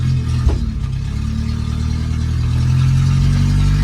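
An Opel car engine with a carburetor runs steadily up close, a continuous low mechanical hum and drone that grows slightly fuller toward the end, with no talking.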